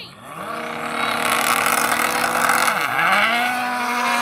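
A Bugatti Chiron Super Sport and a Lamborghini Huracan launch side by side in a drag race, engines roaring hard with a brief dip and sharp rise in pitch as a gear changes.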